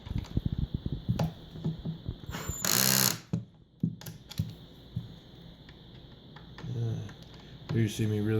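A power drill drives screws to tighten assembled furniture in short bursts of whirring and clicking, broken by pauses with handling noises and a voice speaking between runs.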